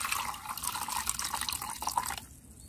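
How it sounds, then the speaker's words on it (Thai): Clear ash water, soaked overnight, is filtered and poured with a soft, continuous trickle and dripping that stops near the end. "เรากรองเอาแต่น้ำใสๆเลยค่ะ"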